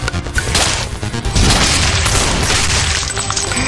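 Rockets blasting and bursting in the flash game Thing Thing Arena Classic, a dense run of loud, close booms and crashing impacts that carries on without a break for several seconds.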